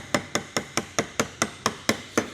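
A chisel chopping into wood at a marking knife line, struck by a mallet in nine evenly spaced, sharp close knocks, each ringing briefly before the next, with no talking.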